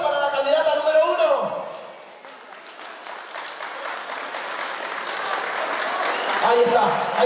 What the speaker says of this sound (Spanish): el aplauso para la candidata número uno